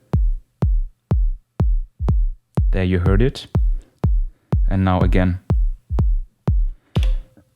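Layered kick drums from an Elektron Digitakt, one filtered down with a slow attack, thump in a steady four-on-the-floor pulse of about two hits per second; someone speaks briefly over the beat twice.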